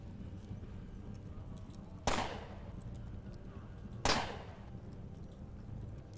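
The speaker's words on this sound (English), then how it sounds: "Wow, that is a lot of shots with a laser gun." Two sharp laser gun shots ring out in the video game UnderRail, spaced about two seconds apart, each a bright crack that trails off quickly over a low, steady background hum.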